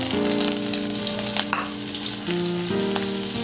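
Onions sizzle loudly and steadily in hot oil in a pan while cooking ginataang tuna tambakol, with a constant bright crackle and a low tonal hum beneath.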